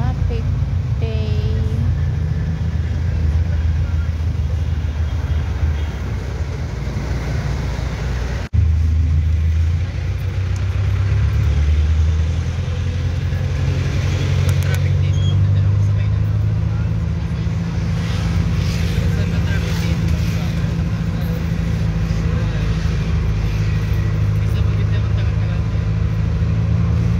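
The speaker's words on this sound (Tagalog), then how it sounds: "sobrang traffic ngayon. It's a traffic day." Heavy road traffic gives a steady, close engine rumble with revving vehicles passing, continuous and fairly loud throughout, with voices at times in the mix.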